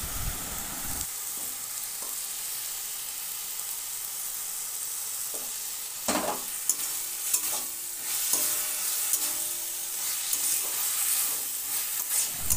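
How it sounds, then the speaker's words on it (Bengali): Malabar spinach leaves frying with shrimp in a pan sizzle steadily while a utensil stirs them, with occasional sharper scrapes and knocks against the pan over the constant hiss. "আর 3-4 মিনিট এইভাবে নেড়েচেড়ে দেবো"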